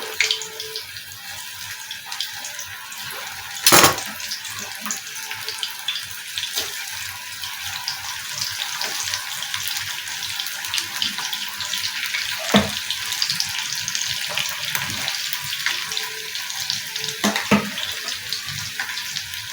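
Steady, close hiss and crackle of chilli pakodi (mirchi bajji) frying in hot oil, continuous throughout with a few sharp clicks and pops breaking through.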